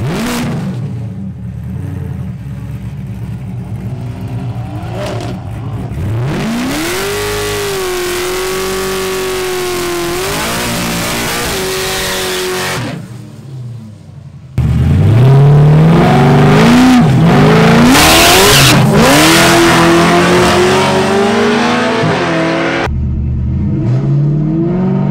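A naturally aspirated RCR Pontiac G8 accelerates hard down a dragstrip, its engine climbing in pitch, dropping at gear shifts, then climbing loudly again, with no talk over it.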